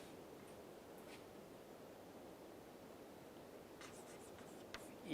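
Pen or chalk faintly scratching out equations during a lecture, a quiet, continuous writing rustle over low room hiss, with no one speaking.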